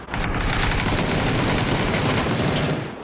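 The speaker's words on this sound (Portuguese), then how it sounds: "Trocando tiro ali." Rapid bursts of automatic gunfire in a video game firefight, dense and continuous for about three seconds, loud and close, with no talking.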